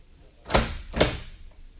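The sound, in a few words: door being closed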